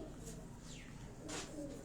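A pigeon coos softly a few times, close but faint, over a quiet background with a brief chirp-like sweep.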